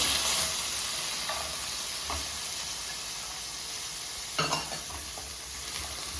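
Chopped beans and carrot fry in melted butter in a pan, a continuous close hiss and sizzle with a few soft stirring scrapes and no talking.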